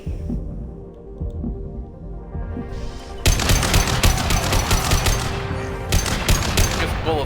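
Gunfire in the video game Mass Effect 2, a quieter humming stretch giving way to rapid continuous automatic fire that stays loud and dense for several seconds, heard alongside game music.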